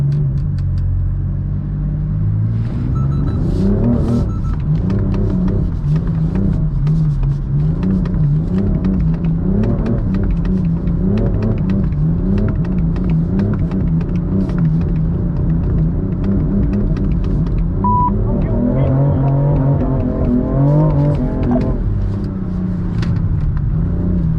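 A BMW M4 engine drones and revs continuously through a drifting lap, the pitch rising and falling with throttle changes, loud and close from inside the car, with no talk.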